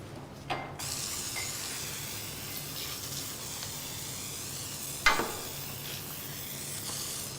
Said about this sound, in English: lightly spray the top